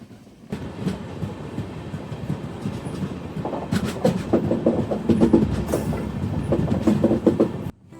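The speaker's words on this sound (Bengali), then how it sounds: "ত্রিপুরার পাহাড় আর চা বাগান পেরিয়ে ট্রেন ছুটে চলল আসামের দিকে।" A passenger train runs through hills and tea gardens from Tripura toward Assam, its wheels clattering in a steady clickety-clack rhythm that grows louder and busier from inside the carriage, with no talk.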